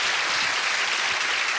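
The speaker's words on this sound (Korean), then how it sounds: "다시 한번 뜨거운 박수 부탁드리겠습니다" A dense, loud wave of audience applause fills a lecture hall at a youth food-industry mentoring event, thanking a speaker with sustained, even clapping and no voices.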